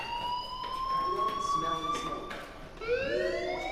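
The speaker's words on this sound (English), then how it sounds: "do you hear that fire alarm? That means you should be outside." A fire alarm from the video game Life is Strange sounds as a steady rising and falling electronic wail, fairly loud, with faint speech in the background.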